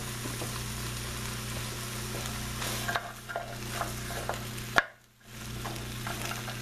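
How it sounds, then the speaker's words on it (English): Beef browning in a pan for a Provencal beef and kidney bean dish, giving a steady close sizzle with a few sharp stirring scrapes and a brief drop to near silence near the end. "And this is sauteing"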